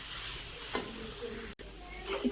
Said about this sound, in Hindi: देखिए कीमे को हमने अच्छी तरह भून लिया